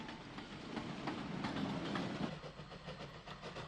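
A GNR SG3 class 0-6-0 steam locomotive hauling a goods train in 1950s Ireland, a steady rolling rumble with rhythmic chugging and wheel clatter, moderately distant and without speech.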